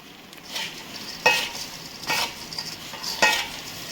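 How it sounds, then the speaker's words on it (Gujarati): Hot oil tempering poured onto roasted poha chevda, giving bursts of crackling sizzle as it hits, followed by stirring and scraping of the mixture in a pan, close and distinct, with no talk. "હવે આપણે આ વઘાર નાખી દઈશું"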